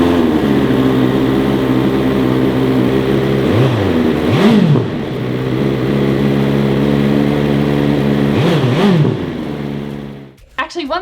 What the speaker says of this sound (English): What about the exhaust sound?